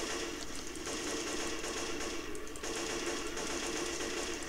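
AK rifle fire in Left 4 Dead 2 rattles in fast, steady automatic bursts, close and loud over a constant game background, with brief pauses between strings of shots.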